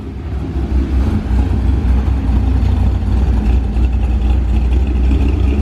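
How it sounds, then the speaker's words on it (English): A Chevrolet Corvette C5 leaving a car culture show gives a loud, deep, steady idle rumble that stays close and continuous with no talking over it. "That crazy sounding C5."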